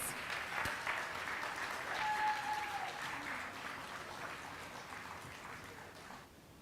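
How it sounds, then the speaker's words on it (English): Applause from the audience at a regional realtor association gala, a sustained burst of many hands clapping that fills the room and slowly fades toward the end. "give yourselves a round of applause"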